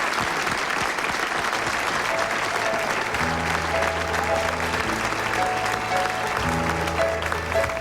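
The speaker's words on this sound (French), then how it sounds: "On va l'applaudir, et toi aussi, tu vas l'applaudir." A hall audience gives dense, sustained applause at a gala evening, steady and loud throughout with music tones sounding beneath the clapping.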